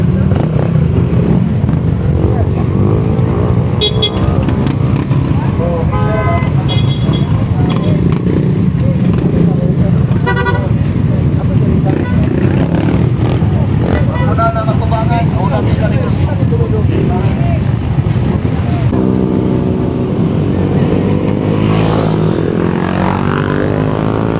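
Motorcycle engines rumble loudly and continuously, revving as a group of riders pass by in Zamboanga Peninsula, with people talking faintly underneath.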